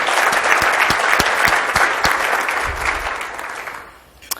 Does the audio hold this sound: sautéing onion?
no